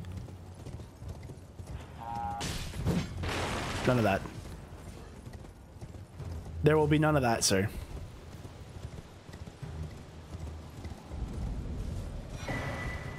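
Rhythmic hoof clip-clops of a horse in the game Elden Ring run steadily throughout, with someone speaking over them and synthetic game chimes and effects in between.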